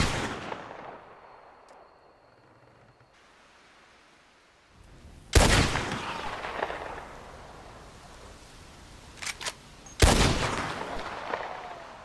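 Repeater rifle gunshots in Red Dead Redemption II, two loud sharp cracks several seconds apart, each followed by a long rolling echo fading away, with faint ambient sound between shots.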